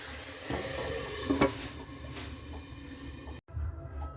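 Mutton for biryani being sautéed and stirred in a pan, a steady sizzle with scraping stir strokes, close and continuous, briefly cutting out near the end.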